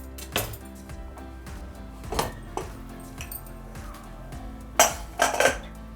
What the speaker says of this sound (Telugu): ఇప్పుడు మూత తీద్దాం